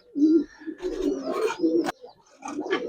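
Pigeons of Giribaz and Army breeds coo in short, close bursts with a bright chirp partway through, a lively cluster of calls and fluttery noise.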